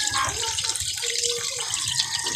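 Water runs steadily and splashes from a tap or into a container during rain, a close, continuous gush with faint voices.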